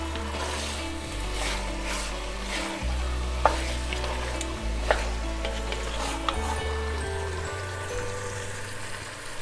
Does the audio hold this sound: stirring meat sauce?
yes